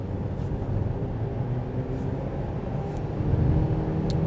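Renault Koleos CVT (Xtronic) engine accelerating with the throttle floored on a night drive, heard as a steady low cabin drone with road noise and a slight swell toward the end.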